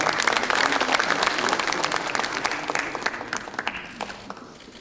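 Applause at a Democratic Party lawmakers' meeting, a full burst of clapping from the room that gradually thins into scattered individual claps toward the end.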